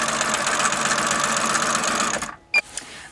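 A sewing machine stitching quilt block fabric strips, running steadily and loudly for over two seconds before stopping, followed by a couple of faint clicks.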